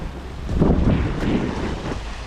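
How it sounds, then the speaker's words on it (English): Steady wind roars over a reefed sailboat near a Fiji island in about 17 knots of breeze, a broad continuous rush with gusty swells and water wash underneath, close and fairly loud, with no talking. "It's 17 knots of wind now."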